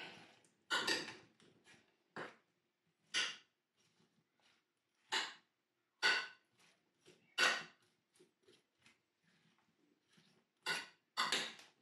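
Chicken and vegetables are tossed with spices in a baking dish, giving quiet, irregular clinks and scrapes of a utensil against the dish in short separate bursts, with silence between.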